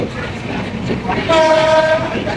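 A train at Poradah railway station at night sounds a loud, sustained horn blast midway through, over a rumbling, rolling background of the passing train.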